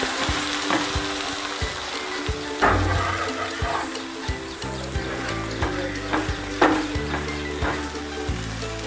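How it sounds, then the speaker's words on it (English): A masala cheese omelette sizzles and crackles steadily in a hot pan, with intermittent scraping and tapping of a utensil stirring. "Nice frying."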